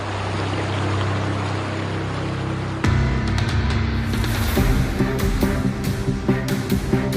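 The Ili River in Xinjiang rushes in a steady, dense broadband flow, loud and continuous, while music rises over the water partway through.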